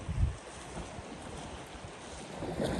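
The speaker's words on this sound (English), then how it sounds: "Is the wind finally dying down?" Wind blowing across a river on a canoe trip, a steady rushing buffet with a few louder gusts against the microphone and faint lapping water underneath.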